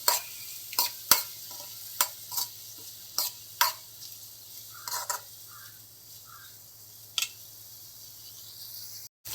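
Ginger-garlic paste and fennel seeds being stirred in a frying pan for a prawn and green peas curry: a low steady hum under repeated sharp scraping clicks of a spoon at irregular intervals.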